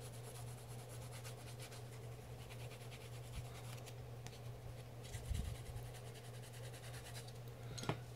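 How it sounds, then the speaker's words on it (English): Pencil coloring over a card, a steady soft scratching and rubbing of graphite on card stock, close and quiet with a continuous low hum beneath and no talking. "you can still go over it some more with your pencil"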